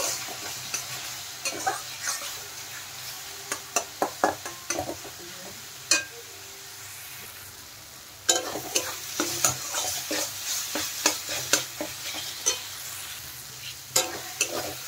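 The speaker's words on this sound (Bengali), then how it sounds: "এখন জল দিয়ে মশলাটা ভালো করে কষিয়ে নেব।" Spiced paste of cumin and ground spices frying in a pan for dal tadka with a splash of water, sizzling steadily while a spoon stirs and scrapes in repeated bursts, with no talk.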